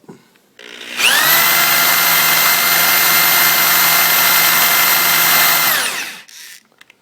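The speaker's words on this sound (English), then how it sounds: "made a priming tool where I can prime the oil pump easily" A drill spins a homemade priming tool to prime the oil pump of a Pontiac 400 engine, a loud, steady, close whine that starts abruptly, holds for about five seconds, then winds down and stops.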